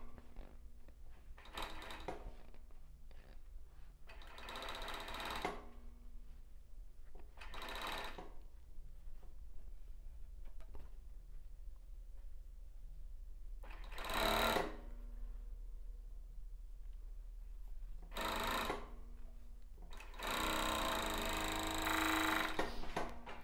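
A sewing machine stitching a plus-size bra with raw jaraguá elastic runs in several short bursts of rapid whirring, separated by quiet pauses. The last burst is longer and louder.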